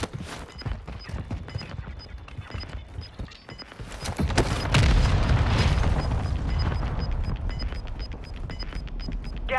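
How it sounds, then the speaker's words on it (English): Mortar rounds strike in Call of Duty: Modern Warfare II, first a run of sharp pops and cracks, then a heavy booming blast that rolls into a long, loud rumble, with faint game voice callouts. "Hostile mortar strike incoming."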